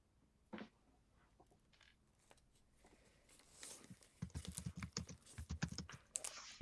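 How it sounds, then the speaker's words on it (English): Someone taps quickly on a loud computer keyboard, starting with scattered faint clicks and building into dense, sharp bursts of keystrokes up close. "Your keyboard is so loud."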